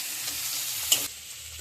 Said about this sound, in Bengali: পেঁয়াজ একটু লাল করে ভেজে নিয়েছি এবার আমি টমেটো কুচিগুলো দিয়ে দিচ্ছি